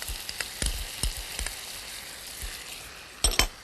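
Ginseng chicken breast sizzling in a pan while being turned and grilled, a steady crackling hiss with a few louder clatters of the utensil against the pan, close and without talk.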